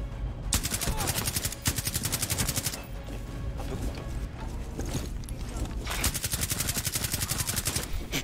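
Rapid, loud automatic gunfire rattles in long continuous bursts, broken only by brief gaps, with a dense mechanical clatter running throughout.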